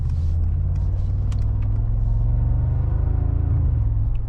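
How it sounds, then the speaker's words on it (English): A 2025 Mercedes-AMG G63 facelift's V8 exhaust gives a deep, steady rumble with a throbbing low-end drone, heard close and loud from the driving car. "still this rumbly noise, but the pops are like a muted"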